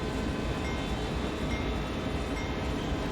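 Freight locomotive in Train Sim World 2 on the Sand Patch Grade, a steady dense rumble and roar of the train running at speed, continuous and loud.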